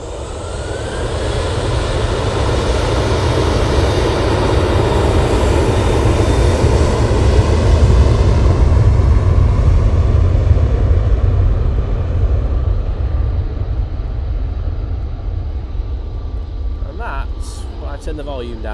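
A Ryanair airliner passes at Manchester Airport with a loud, sustained jet engine roar that swells and slowly fades over nearly twenty seconds. A faint voice can be heard near the end.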